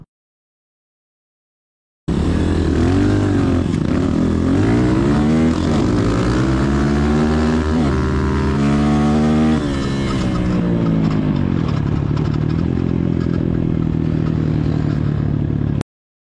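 An ERZ Pro 2022 motorcycle ridden off-road, its engine revving up and down loudly and close after a silent start, pitch rising and falling through gear changes before settling into a steady drone.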